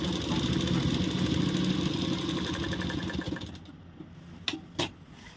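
A sewing machine stitching a salwar runs steadily and fairly loud with a continuous mechanical whir for about three and a half seconds, then stops, leaving quiet room tone and two brief clicks near the end.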